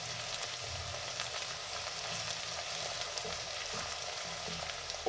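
Ginger, garlic and coriander frying in a pan, a steady soft sizzle with faint stirring scrapes, fairly quiet and continuous with no talk.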